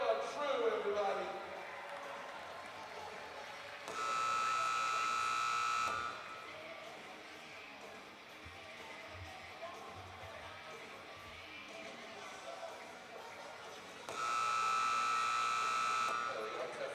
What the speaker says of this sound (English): There we go, testing that buzzer.